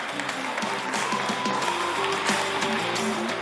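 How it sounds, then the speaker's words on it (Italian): A crowd applauding steadily in a dense wash of clapping, with music or a voice faintly underneath throughout. "un bel applauso a tutta la Cogornese"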